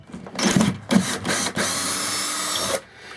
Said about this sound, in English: keep on running screws, giving them turnout and all that